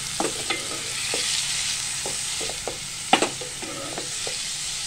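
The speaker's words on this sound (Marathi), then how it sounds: "तेलामध्ये कांदा भाजायचा आहे आपल्याला" Onion frying in oil with bay leaves for chicken keema pav, a constant hiss punctuated by repeated spoon stirs and scrapes against the pan, one louder knock just past the midpoint, no speech.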